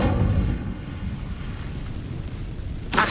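Incendio fire spell blast in Hogwarts Legacy, a loud, sustained roaring rumble with a heavy low end that holds for about three seconds and ends in a brief sharp burst.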